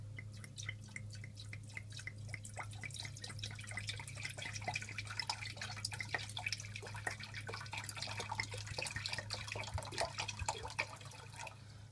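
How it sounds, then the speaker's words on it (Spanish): A litre of water is poured into a cooking pot for brown rice with mushrooms, a faint steady trickle and patter of liquid over a low constant hum. "Echamos el litro de agua."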